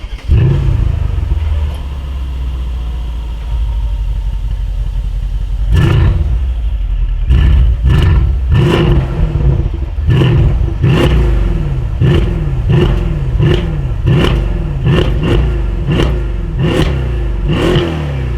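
A Mercedes S63 AMG Coupe accelerates hard: a deep, loud engine roar builds, then repeated sharp rev surges and gear-shift bursts pulse rhythmically through the latter half, with no talking.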